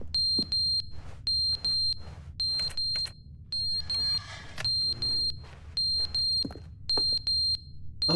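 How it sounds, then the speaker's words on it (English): A smoke alarm in the video game Stanley Parable Ultra Deluxe beeps in a rapid, regular pattern of piercing high-pitched chirps in short bursts, loud and close over a low background hum. "Oh, it's a smoke alarm."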